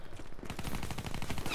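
Rapid automatic gunfire in Call of Duty Black Ops III, a dense, even stream of sharp shots firing continuously for over a second with no voices.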